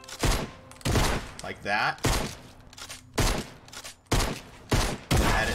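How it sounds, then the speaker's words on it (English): Shotgun blasts in the video game Fortnite, several sharp, loud reports at uneven intervals with a brief ringing effect between them, and someone talking briefly in between. "shotgun, shoot once"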